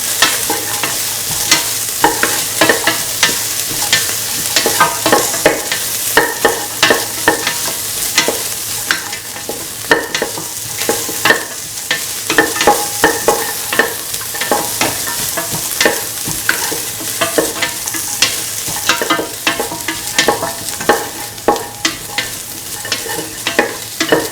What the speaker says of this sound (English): Salt and mix the ginger and garlic with the rest of the ingredients.